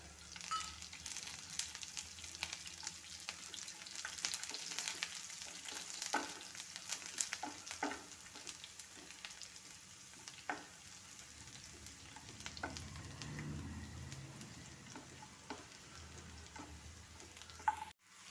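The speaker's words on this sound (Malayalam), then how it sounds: "അതിലേക്ക് തന്നെ വെളുത്തുള്ളി ഇട്ട് കൊടുക്കാം" Garlic sizzles in a pan with ginger for a chicken chukka dish, a steady, soft frying crackle with occasional stirring clicks and scrapes throughout.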